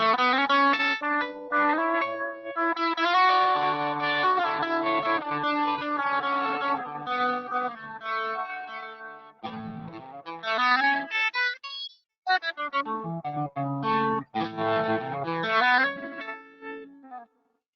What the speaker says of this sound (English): based off that popular Timmy style overdrive